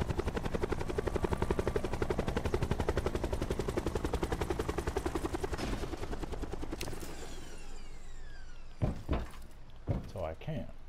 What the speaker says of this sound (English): See if I can land my helicopter on top of the thing.